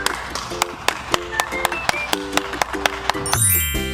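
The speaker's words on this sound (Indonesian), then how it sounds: "Tepuk tangan untuk kelompok A karena sudah benar dalam menjawab." Regular, crisp claps in a steady rhythm for a group of primary-school pupils, set against tonal background music that swells with a rising chime at the end.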